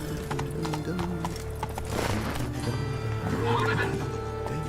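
Horse hooves clip-clop at a gallop in The Witcher 3 video game, with a loud neigh over the steady hoofbeats and game music and voices behind.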